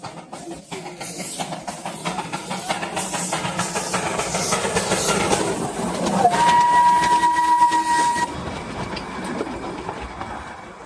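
Darjeeling toy train passing at Batasia Loop, a steady rumble of wheels and carriages building to a loud, close sustained whistle blast near the end, then the running noise continuing as it moves on.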